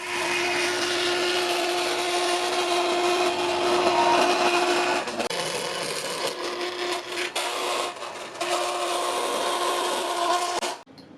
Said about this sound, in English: I basically marked them out and cut them out with a bandsaw